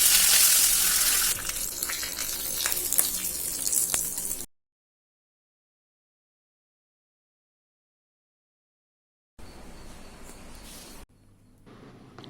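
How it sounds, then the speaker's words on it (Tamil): Mustard seeds and urad dal crackle and sizzle as they temper in hot oil for chutney, a loud, busy frying hiss for several seconds, then silence before softer kitchen sizzling returns. "சட்னிக்கு தான் நம்ம கடுகு உளுந்தம் பருப்பு போட்டு தாளிச்சிட்டு இருக்கேன்"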